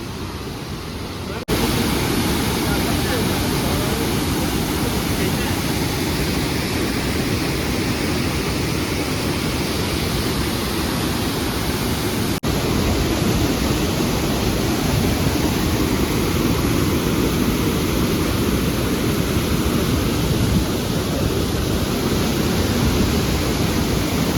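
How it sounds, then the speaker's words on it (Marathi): A large waterfall deep in a dense forest pours with a steady, loud roar of rushing water that stays constant from start to finish, with no voices over it. "बघू शकता किती सुंदर आणि हा भव्य धबधबा आहे"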